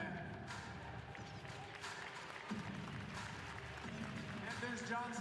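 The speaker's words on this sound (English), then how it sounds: "Vous pouvez applaudir Madison Pearman" A crowd at a speed skating World Cup in a Quebec City ice centre applauds skater Madison Pearman, a steady wash of clapping running throughout beneath an announcer's voice.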